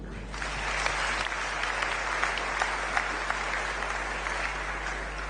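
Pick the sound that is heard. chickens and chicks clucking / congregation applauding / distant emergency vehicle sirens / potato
congregation applauding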